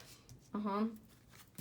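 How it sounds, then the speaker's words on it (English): Tarot cards are shuffled in a quiet, soft riffling and rustling close by, with a person's voice speaking briefly over the card sounds. "Let's shuffle."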